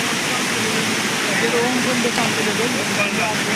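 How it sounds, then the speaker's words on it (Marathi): A flooded river swollen by heavy rain near Ambi village in Bhum-Paranda taluka rushes past in a loud, constant broadband roar, with a voice talking over it. "नदीचं एवढं मोठं पात्र वाहत आहे"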